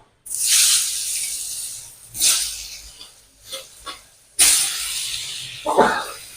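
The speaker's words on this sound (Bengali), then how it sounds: "যে তেল আছে ওই তেলে আলুগুলো ভেজে নেবো" A loud, steady hiss and sizzle of potatoes frying in hot oil, swelling in bursts with brief quieter gaps between.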